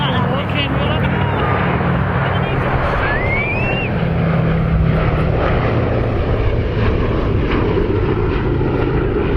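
Warbirds at the Cosford Airshow, a P-47D Thunderbolt and P-51D Mustang alongside a B-17G, with a loud, continuous piston engine drone close overhead and crowd chatter and talking running beneath it throughout.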